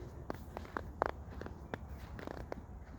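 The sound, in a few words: footsteps crunching on soft snow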